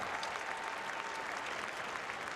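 Crowd applause fills a gym at halftime of a girls' high school basketball title game, Seward vs Beatrice, honoring award recipients; steady, dense clapping throughout, heard from within the stands.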